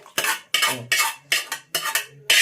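A spoon scrapes and stirs salt through bagara rice in a metal pot, about six quick strokes in a steady rhythm, close by.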